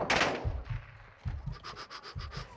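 Gunfire from the video game Call of Duty: Modern Warfare II, a burst of close shots at the start followed by a run of quick, rhythmic shots at moderate level with a scraping, scuffling texture underneath.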